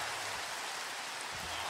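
Steady rain falls in the Minecraft video game, a dense constant hiss of drops with no pauses, heard alone without talk.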